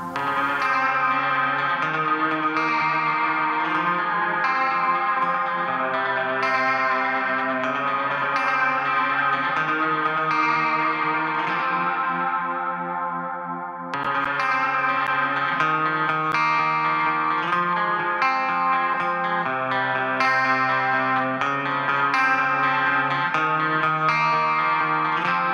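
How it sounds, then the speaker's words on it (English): Electric guitar chords through a JST Toneforge Misha Mansoor amp plugin ring out with a shimmering, warbling chorus effect, sustained and loud, with a brief dip midway before the strumming resumes. "Let's go into the chorus here."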